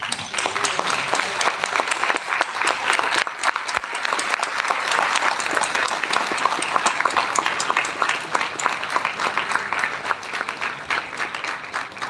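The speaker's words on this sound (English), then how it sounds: "Please, a big round of applause." Sustained audience applause during a standing ovation at a talk on climate change and solar energy, dense even clapping from a large crowd holding at a steady level throughout with no break.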